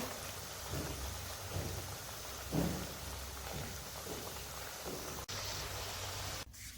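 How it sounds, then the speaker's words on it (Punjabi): Potato cutlets frying in heavily bubbling oil, a steady dense crackle and hiss running through the whole stretch with one brief louder flare, no talking. "ਅਜੇ ਆ ਜਿਹੜੇ ਤੇਲ ਦੇ ਉੱਤੇ ਨੇ ਬੁਲਬੁਲੇ ਬਹੁਤ ਜ਼ਿਆਦਾ ਨੇ"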